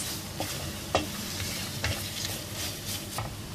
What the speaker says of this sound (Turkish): Salçamızı da kavuralım biraz.